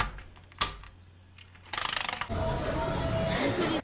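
Keyboard being taken apart and cleaned, with scattered mechanical clicks and clacks, a sharp knock early on, then a burst of rapid rattling followed by a steady rushing hiss like air blowing over the parts.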